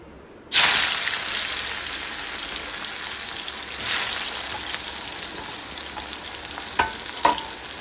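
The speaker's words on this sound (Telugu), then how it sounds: "ఇప్పుడైతే నూనె వేడైపోయింది కాకరకాయలు వేస్తున్నాను" Bitter gourd pieces drop into hot oil with a sudden loud burst of sizzling, then settle into a steady crackling fry with a few sharper pops and spits near the end.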